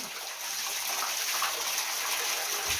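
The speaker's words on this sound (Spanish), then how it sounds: "La duelo y ahí sale el agua y abro la llave." Water runs steadily from a tap into a tub or basin in an old abandoned house, a continuous broad hiss that holds at even loudness for the whole stretch with no voices over it.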